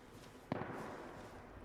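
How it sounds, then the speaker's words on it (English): Gunfire in the survival video game DayZ, a single sharp distant report standing out over a low steady background, fairly faint. "Oh, I hear those gunshots"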